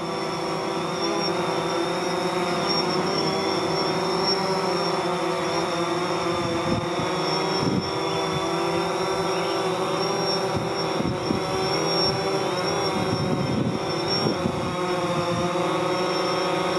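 A DJI Phantom 4 Pro drone hovering outdoors on new Master screw propellers gives a steady, high-pitched whine and buzz that stays constant and fairly close, with faint wind noise and rustling underneath.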